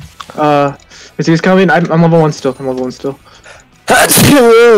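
A sneeze bursts out near the end during a League of Legends session, loud and close, following several stretches of casual gamer chatter.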